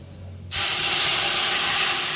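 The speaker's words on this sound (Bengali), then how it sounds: "জল দিয়ে দিলাম কড়াইয়ের মধ্যে।" Water poured into a hot wok while making vegetable chowmein, a sudden loud burst of hissing steam that cuts in after a brief quiet moment and stays strong, no voices.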